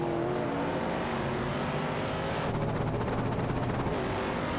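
Race cars roar past in a video game race featuring a Ford Falcon and a Maserati Bora competition car, a loud continuous engine drone with a rising whine as one car closes in, no talking over it.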